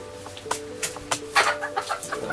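Chickens nesting beneath the nesting boxes give several close, short clucks in an irregular series over a faint steady background hum.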